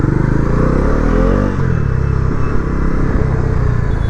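A Pulsar NS400 motorcycle with stock exhaust and tyre hugger removed rides along a road, its engine droning loud and steady with a brief dip in pitch partway through and continuous wind rumble.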